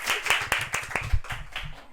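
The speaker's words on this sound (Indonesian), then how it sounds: "Tepuk tangan dong guys." Clapping from a small group of friends during a casual podcast chat, sharp individual claps in a loose, uneven rhythm, close and fairly loud, with a little low murmuring in between.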